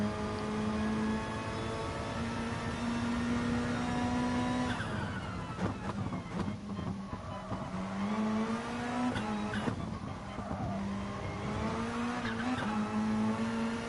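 Race car in a racing video game on the Alsace track, a near, loud engine whine rising and falling through gear changes, with tire squeal and skidding in the middle stretch, no talk.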